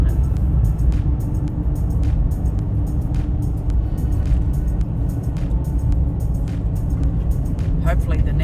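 A vehicle drives along the smooth, unsealed Gawler Ranges Road, giving a steady low rumble of engine and tyre noise with faint ticks and rattles throughout and a voice speaking briefly.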